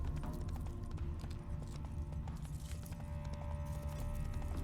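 Horse hooves clip-clop steadily in The Witcher 3, a continuous rhythmic trot layered over dense game music and ambience.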